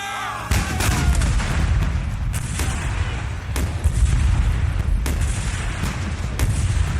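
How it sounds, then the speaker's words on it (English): Heavy artillery cannon booms fire repeatedly at irregular intervals in a Battle of Gettysburg depiction, deep and rumbling, with overlapping distant blasts between them. "Then, the Union artillery opened fire."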